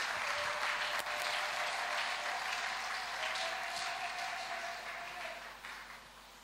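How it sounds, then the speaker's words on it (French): A church congregation claps together at an evangelical service, a sustained wash of applause at moderate distance that gradually fades toward the end. "Nous acclamons pour cette parole."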